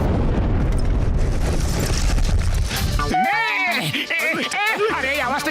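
A cartoon blast set off to break open an ATM: a loud, dense roar fills the first three seconds, then cuts off as excited cartoon voices start talking.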